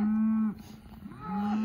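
A bull on a cattle-working farm moos loudly and close, one long low call, a short pause, then a second call starting near the end.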